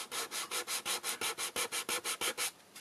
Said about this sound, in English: I've got a rough sanding block.